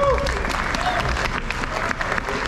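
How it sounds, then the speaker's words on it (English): A crowd at a car show awards ceremony applauds, a steady, full wash of many hands clapping at once, filling the room with no pauses. "Again, give yourselves a round of applause."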